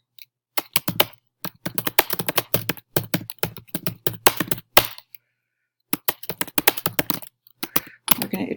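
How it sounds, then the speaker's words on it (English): Typing a short sentence on a computer keyboard: close, crisp bursts of rapid key clicks with brief pauses between words, heard alone with no talk. "I'm going to type my sentence"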